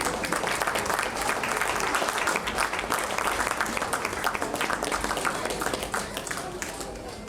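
An audience applauds the chief guest at a charity event in Kolkata, a continuous dense clapping from a crowd, steady and moderately distant, tapering slightly at the end.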